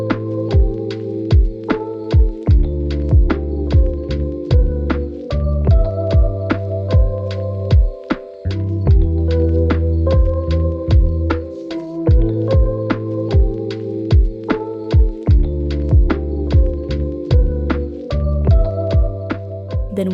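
A sewing machine stitches around the top edge of a pinafore dress, running in repeated bursts with a steady rhythmic mechanical thump and hum, close and loud, with brief pauses between runs.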